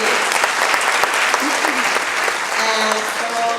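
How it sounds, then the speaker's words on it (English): A film festival opening-night crowd applauds actors on stage, a loud, dense wash of clapping that holds steady throughout, with a voice briefly audible through it. "a round of applause for both of your own team on stage"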